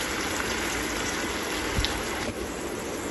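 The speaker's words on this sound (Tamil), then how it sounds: "லைட்டாக தண்ணி ஊற்றிக்கோங்க." Water poured into a pan of cooking tomatoes over a medium flame, a steady soft gushing splash that runs close and fairly quiet for about three seconds, with a brief stronger surge near the middle.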